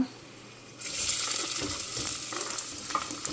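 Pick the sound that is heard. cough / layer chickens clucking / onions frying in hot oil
onions frying in hot oil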